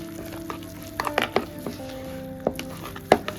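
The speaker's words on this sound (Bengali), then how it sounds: "দিয়ে খুব ভালো করে হাতের সাহায্যে ব্যাটারটাকে ফেটিয়ে নেব" Bok flower fritter batter is beaten by hand in a bowl, giving irregular wet slaps and squelches close up over a quiet background.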